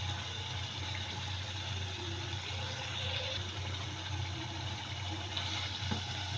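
Water is poured into a pot of potatoes and minced meat for dhaba-style aloo keema, a steady continuous splashing and running sound heard close up, with no talking.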